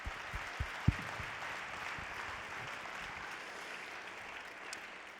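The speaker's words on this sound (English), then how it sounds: "Please join me in giving them a round of applause" A lecture-hall audience at the 2024 Distinguished Lecture Series applauds its sponsors in a steady, even round of clapping, with a few louder thumps at the start.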